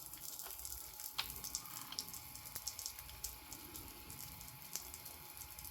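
A shower runs with a steady, soft hiss of falling water and scattered droplet taps, faint and fairly distant, with no voices.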